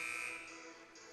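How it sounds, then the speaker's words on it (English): A harsh electronic buzzer marks the end of a 30-second timeout at a high school game between Hawken and Chagrin Falls. The single brief tone is fairly quiet and distant and fades within about a second. "as the buzzer sounds to return to the floor"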